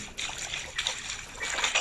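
Splashes and sloshing water as a player moves through water in the Granny Chapter 1 video game during a tunnel escape, several short bursts in quick succession, close and fairly loud.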